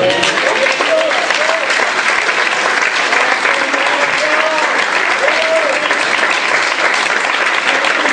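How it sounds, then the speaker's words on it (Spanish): Church congregation breaks into steady, dense applause that holds at full strength throughout, with a few voices and shouts rising over the clapping. "Démonos un aplauso."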